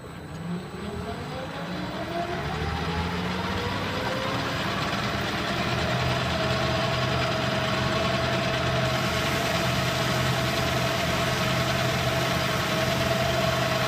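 A lathe runs steadily while making finish cuts on a threaded part, giving a constant motor hum with a sustained whining tone. The sound grows slightly louder after the first couple of seconds, then holds even throughout.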